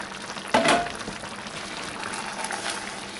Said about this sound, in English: It's been cooking for half an hour on medium.